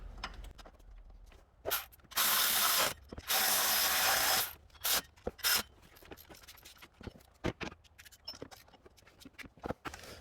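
A ratchet tightens alternator bolts on a 2007-2014 Chevrolet Silverado, with scattered clicks and then two sustained bursts of rapid ratcheting at close range, followed by lighter intermittent clicking.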